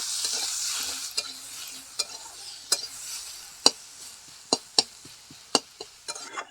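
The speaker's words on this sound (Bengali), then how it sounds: "পেঁয়াজগুলোকে ভালো করে ভাজবো।" Chopped onions frying in hot oil for a curry with jackfruit seeds: a steady sizzle runs throughout, punctuated by about a dozen sharp clicks and scrapes of a spatula stirring against the pan, close and clear, with no voices.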